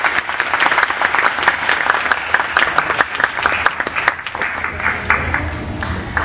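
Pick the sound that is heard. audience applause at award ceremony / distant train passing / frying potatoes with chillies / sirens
audience applause at award ceremony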